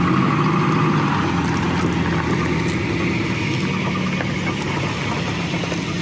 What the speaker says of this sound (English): Sounds like an old 240.